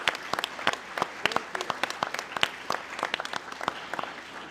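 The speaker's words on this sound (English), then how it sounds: "Let's give her a big round of applause." Applause from the audience at a police commissioners board meeting, a short burst of scattered, fairly close hand claps that rises and tapers off over a few seconds.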